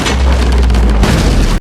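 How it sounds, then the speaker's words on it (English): Cannons fire in Assassin's Creed Brotherhood at a villa at dawn, one heavy sustained boom that rolls and rumbles loudly for over a second before cutting off. "Early the next morning, we get interrupted by the cannons firing"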